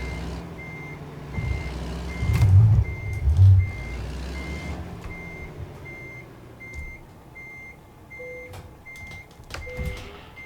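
Reversing beeps from a truck in American Truck Simulator, a steady evenly spaced series of high alarm tones running the whole time over a low diesel engine rumble that swells briefly, backing toward a trailer.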